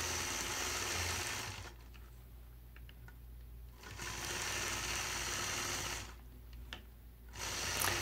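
A sewing machine quilts stitch in the ditch, running in two steady whirring bursts separated by a quieter pause with faint clicks, heard close and alone.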